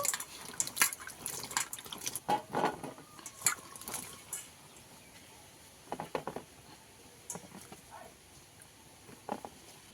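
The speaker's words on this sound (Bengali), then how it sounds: "পটলগুলো ধুয়ে তুলে নেব।" Pointed gourds being rinsed in water in a kitchen, with scattered splashes, drips and light patter in irregular bursts, fairly faint and close.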